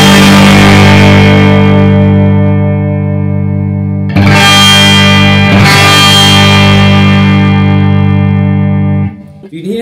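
Electric guitar played through a tube amplifier set to volume 5 with light distortion; loud, sustained chords ring with rich overtones and a slight hairy edge, struck anew twice before fading out at the end.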